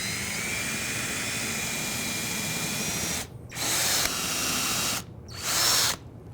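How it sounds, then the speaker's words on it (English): A power drill bores a hole with a brad point bit through a drilling jig, a steady whirring hum that briefly cuts out twice and surges back louder each time, with no talking. "You're ready to drill."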